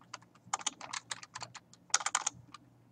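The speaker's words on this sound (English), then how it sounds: "I'm having a hard time typing." Rapid keystrokes on a computer keyboard, close and fairly loud, in uneven bursts with a dense flurry near the end and no talking.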